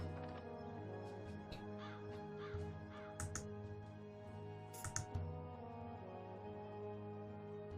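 A crow caws repeatedly from a bird circling a boat in the video game Dreamfall Chapters, with several distinct harsh calls spaced irregularly over a steady low ambient hum.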